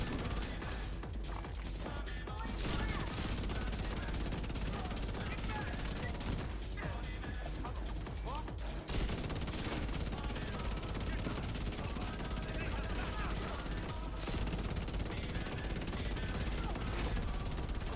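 No-reload SMG gunfire in The Division 2 rattles in long, dense continuous bursts amid layered game effects and mechanical noise, heard under a player's talk.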